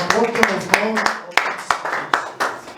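A church congregation clapping in steady rhythm at a French-language prayer service, sharp regular hand claps about three per second, near and loud, with a voice singing or speaking over the start.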